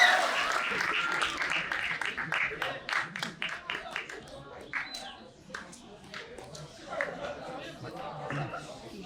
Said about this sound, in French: Merci de les applaudir encore chaleureusement pour les encourager à leur entrée sur scène.